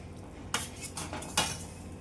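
A metal spoon scrapes and clinks against a pot while stirring fried bata fish into a simmering curry gravy, three sharp knocks spaced apart over a faint quiet background.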